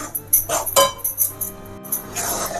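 A spoon scrapes and clinks in a pan as ingredients are dry-roasted and stirred, quick irregular metallic taps and scrapes, close and fairly loud, with no voice.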